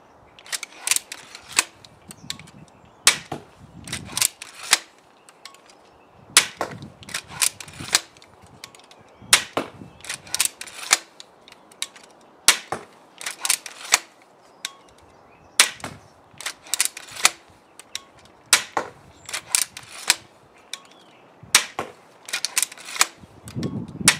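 EK Archery Vlad pistol crossbow firing bolts one after another, each shot a sharp, close snap followed by clicks and clatter of recocking and loading, repeating at a quick, uneven pace over a quiet background.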